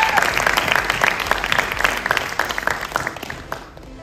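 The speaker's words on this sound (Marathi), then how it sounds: "एकदा जोरदार टाळ्या सिद्धार्थसाठी." Audience applauding for Siddharth at the Fussclass Dabhade trailer launch, a dense burst of clapping from a crowd that carries on for about four seconds and then fades near the end.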